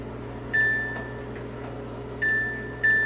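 Three sharp electronic beeps from an oven keypad as numbers are entered, each a clear tonal chirp, the first longer, the last two closer together in a quiet kitchen.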